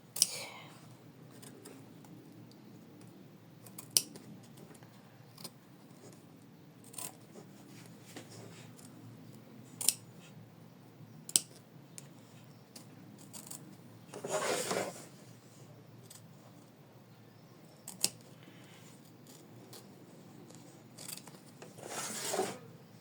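Scissors cut and trim felt for a small heart ornament, with faint scattered snips and rustles close by, plus a few louder bursts of handling noise, all at low level with no talk.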